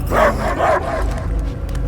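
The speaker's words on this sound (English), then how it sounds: "I hear only barking." Cosmo the space dog barking in a Guardians of the Galaxy game: two quick, loud barks near the start, then low rumbling background sound with no further yelps.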